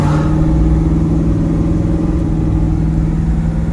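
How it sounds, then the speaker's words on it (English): A 1971 Oldsmobile Cutlass 442 W-30 with its numbers-matching 455 V8 cruises on a highway, its engine a loud, steady, deep drone heard close inside the car. "I haven't even driven this car down the highway before"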